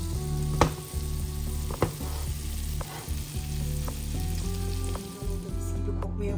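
Butter fries in a pan while meatballs in sauce are being made, a loud, close, steady sizzle broken by several knocks and scrapes of a utensil as it is stirred.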